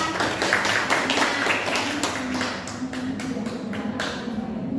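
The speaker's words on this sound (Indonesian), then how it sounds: "Tepuk tangannya." A small group of students claps hands together in a classroom, a short, brisk patter of clapping that loses force and thins out toward the end.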